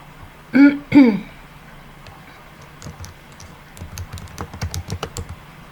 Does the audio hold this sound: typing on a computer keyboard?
yes